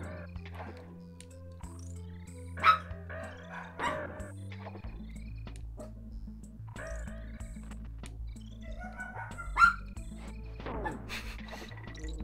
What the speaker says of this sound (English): My dogs are barking, I'm sorry.